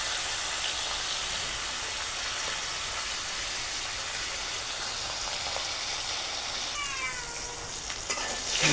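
Hilsa fish frying in a pan makes a continuous hiss and sizzle in the oil at a fairly quiet, even level, with a few clattering touches toward the end.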